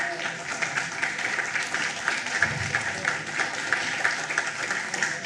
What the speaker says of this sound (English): let's give your Wynn Varsity Cross Country Team a big round of applause